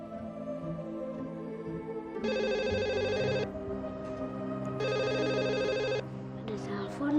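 A telephone rings in two separate electronic bursts inside a home in an Indonesian drama series, loud and close, with voices talking around the rings.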